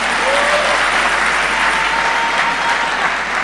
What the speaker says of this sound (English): you need to give a real big round of applause to the choir